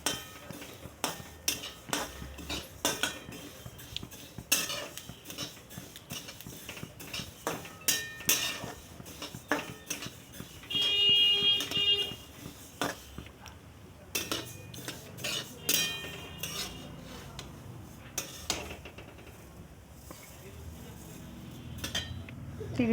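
Sesame seeds roasting in a kadhai as a metal spoon scrapes and stirs through them, giving repeated clinks and scrapes at close range with a steady rustle underneath and no speech.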